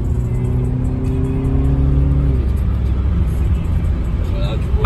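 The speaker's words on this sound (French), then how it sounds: "imaginons, je vais baisser les vitesses, donner du tour" A Volkswagen Passat engine hums loudly in manual mode as gears drop, its tone sliding and shifting before settling into a deeper rumble, with talk inside the car.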